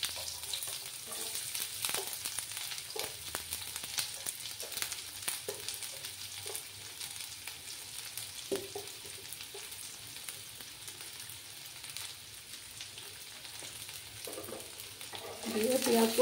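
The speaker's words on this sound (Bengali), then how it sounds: "দিয়ে পেঁয়াজগুলোকে একটু লাল করে ভেজে নিতে হবে।" Two chopped onions fry in oil over gas heat for a small fish masala, giving a soft, steady sizzle that continues alone throughout and swells slightly at the very end.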